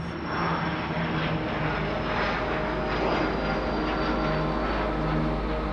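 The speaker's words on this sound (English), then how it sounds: "we rise early and board a small plane bound for Arnhem Land" A steady, loud droning engine roar from inside a small propeller plane in flight from Darwin to Arnhem Land, continuous and unchanging with a broad rushing hum.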